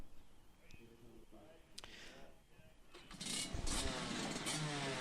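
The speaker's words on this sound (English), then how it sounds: "So the engines fire up into life, and row by row, driver by driver, they head out onto the circuit" Race car engines fire up on a starting grid, a rough mechanical rumble that swells into a loud, dense roar partway through, heard under a commentator's ongoing talk.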